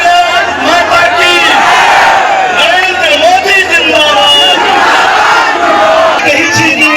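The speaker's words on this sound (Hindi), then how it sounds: "एनडीए गठबंधन के कार्यकर्ताओं, आमजनों की भारी उमड़ी भीड़।" A large crowd of NDA alliance workers and local people cheers and shouts at a Bihar election rally, a dense, loud roar of many raised voices that holds steady throughout.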